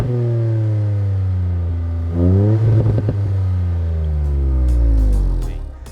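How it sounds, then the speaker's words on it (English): A Fiesta ST revs steadily, the engine note rising and falling with a busier burst in the middle, and a few sharp exhaust pops and crackles come near the end as the revs drop. "the pops and bangs from the exhaust on the Fiesta ST"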